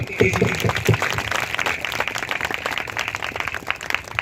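A church congregation at a ministry meeting in Punjab clapping together, a steady scattered patter of hands running under loud speech throughout.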